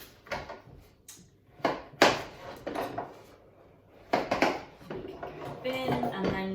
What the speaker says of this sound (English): And then you want to chop the ends off.